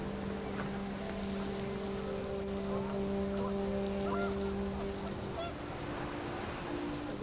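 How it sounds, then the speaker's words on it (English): Panicked geese honk in What Remains of Edith Finch as the wind picks up, a scattered run of calls over a steady engine-like drone and windy wash, moderately loud and close, fading out near the end. "The wind picked up, and panicked geese appeared and quickly went."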